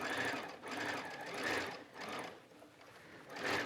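A sewing machine stitches t-shirt fabric with a continuous whirring hum that swells and eases in short rhythmic surges, close by and steady throughout.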